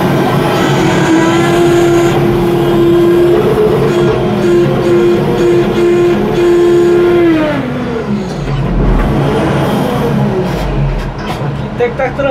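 W20E wheel loader working on a site being cleared for a parking area, a loud close engine with a sustained whining tone that drops away, then rumbling and clanking as it works, with a voice speaking over it.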